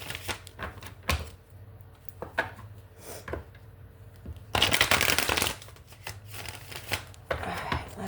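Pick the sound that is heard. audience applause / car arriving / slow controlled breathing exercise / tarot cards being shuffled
tarot cards being shuffled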